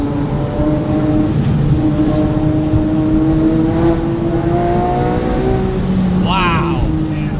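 A Porsche 997.2 GT3 with a Gentlemen's Spec performance package drives with a loud, continuous engine note. The pitch rises and shifts as it revs, heard from inside the car while people talk over it.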